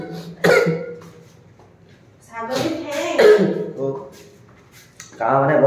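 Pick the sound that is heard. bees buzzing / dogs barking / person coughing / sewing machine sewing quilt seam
person coughing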